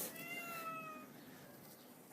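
Several cats meow in a garden, their thin, wavering cries rising and falling over about two seconds against a steady outdoor background, with no talk.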